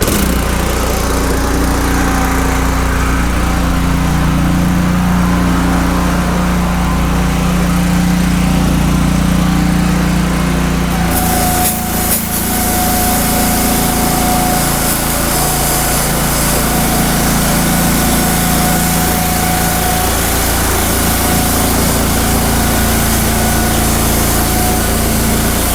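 A Honda GX200 small petrol engine runs loud and steady at full throttle with a continuous buzzing drone, close up. It briefly stutters partway through, then carries on at a slightly changed pitch.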